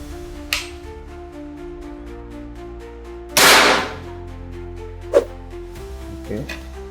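Three sharp PCP air rifle shots (GK Panther LDT) ring out at uneven intervals, the middle one loudest, over a steady low hum.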